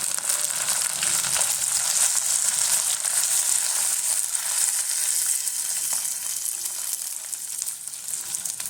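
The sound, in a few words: beef with coconut pieces and curry leaves frying in a pan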